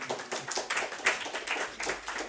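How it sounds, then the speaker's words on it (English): A group claps for a classroom volunteer during a linear algebra lesson, a steady burst of many hands applauding for about two seconds with no talk over it. "I'll give him a clap of hands."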